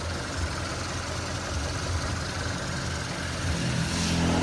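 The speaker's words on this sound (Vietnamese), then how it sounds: "Chân 70 động cơ Suzuki Nhật, máy cũng còn liền lắm nha." A Japanese Suzuki engine on a straw baler idles steadily, a continuous close mechanical rumble with a low throb that holds even throughout and firms slightly near the end.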